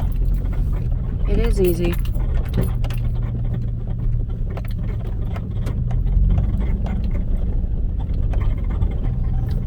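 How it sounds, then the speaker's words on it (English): Vehicle engine rumbling steadily while overlanding through a rocky riverbed on an Ozark Mountains trail in Arkansas, with rattles and clunks over the drone as people talk inside. "Looks like we're driving through a riverbed."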